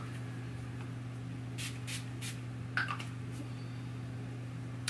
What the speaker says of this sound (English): I'm just going to spray my face with the Urban Decay Quick Fix real fast.